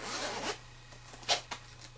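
A crocheted makeup bag's zipper is pulled in a few quick bursts, close and fairly quiet, with soft rubbing of fabric between the pulls.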